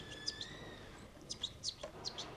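A captive wild bird in a cage gives faint, scattered chirps and short tweets, several quick calls spread across the moment against quiet background hiss.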